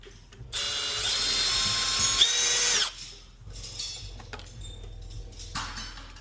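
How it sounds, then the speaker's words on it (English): A loud power drill whines steadily for about two seconds as it bores through a front fascia panel of a Dirt Direct 25+ Pro R, then cuts off, followed by quieter handling clatter and a brief second burst. "What I would do next would be this bottom hole. So drill that through."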